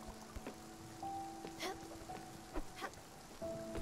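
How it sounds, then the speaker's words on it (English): Rain falls steadily in the video game Spiritfarer, a constant hiss of patter running beneath sustained musical tones and a few brief sharper sounds. "Oh, this rain. Will it ever stop?"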